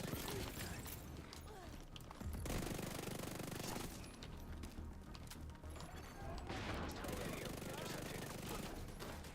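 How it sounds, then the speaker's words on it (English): Bursts of automatic gunfire in the shooter video game The Division 2, rapid rattling volleys in repeated clusters at moderate distance, with faint talk underneath. "I hear gunfire."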